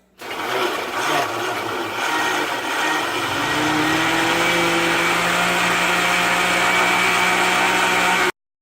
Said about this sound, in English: let's blend this up and see how it looks